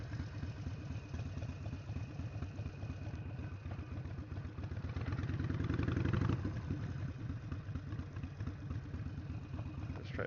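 A motorcycle engine idles with a steady low throb during practice at a DMV lot, rising briefly in a small rev before settling back to idle.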